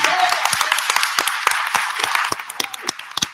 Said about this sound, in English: Give him a hand, everybody.